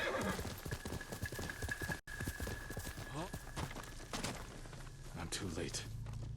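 Horse hooves clip-clop in a quick steady rhythm and a horse whinnies during a ride in Ghost of Tsushima, with a voice speaking over the hoofbeats and a brief cut in the middle.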